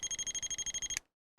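An ANCEL PB100 automotive circuit probe tester on a 12V/24V car electrical system gives its positive signal: a fast run of about a dozen sharp, evenly spaced electronic beeps that stops abruptly, followed by a brief click.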